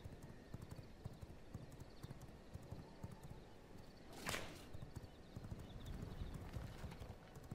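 Horse hooves clip-clopping at a steady quick pace in the game V Rising, faint under a noisy background, with a brief whooshing swell near the middle and no talking.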